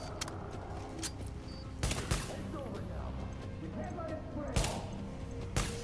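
Gunfire in the video game Tom Clancy's The Division, bursts of sprayed shots with several sharp louder cracks standing out over a busy, dense game mix, with a voice talking throughout.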